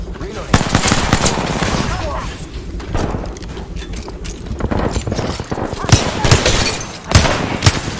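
Rapid bursts of automatic gunfire crackle through an Apex Legends firefight, dense and near, with a player's voice breaking in over the shooting.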